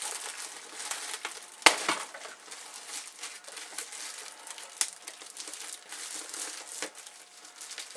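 Plastic bag ripped open while unboxing a C64 Mini: a sharp tearing burst followed by close, continuous crinkling and crumpling of the plastic.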